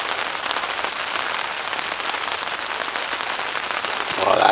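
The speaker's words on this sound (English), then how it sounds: "Beautiful early morning rain day." Steady early morning rain pattering on a surface, a dense even hiss of drops that grows slightly louder near the end, with no voices.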